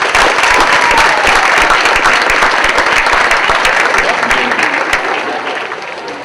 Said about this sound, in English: So I want all the men in the room to give y'all a round of applause.